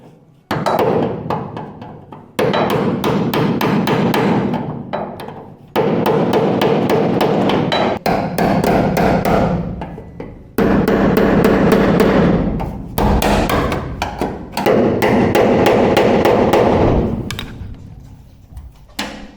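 Rapid bursts of loud hammering on metal, repeated in several long runs separated by short pauses, sharp and close.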